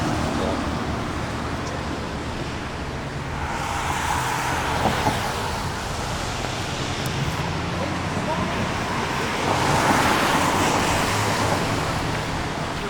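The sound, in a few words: car traffic on the road near the overpass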